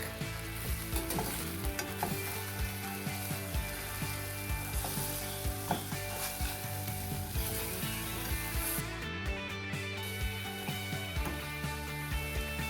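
Cod fillets sizzle and fry in a pan with a continuous crackling hiss and small irregular pops, close and steady throughout with no voices.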